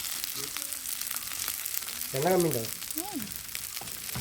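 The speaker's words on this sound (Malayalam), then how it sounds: "നമ്മൾ മീൻ ഫ്രൈ ചെയ്യാൻ വേണ്ടി വെച്ചിട്ടുണ്ട്" River fish fries in a pan with a constant hissing sizzle, while a faint voice murmurs briefly in the background.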